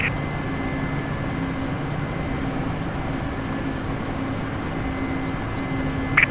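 The engine of a Mi-8MTV2 helicopter in a flight simulator, a steady, loud whining drone with a constant rotor hum that holds unchanged throughout, with no voices.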